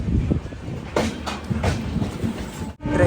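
The Kerala Express from New Delhi to Thiruvananthapuram runs on rails near Hazrat Nizamuddin station, heard from inside a 3AC coach as a steady rumble with rhythmic wheel clacks and a brief dip near the end.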